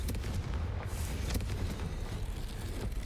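Confringo fire spell blasting in Hogwarts Legacy, a dense rumbling burst of booms and crackles that stays loud and churning for a few seconds without speech.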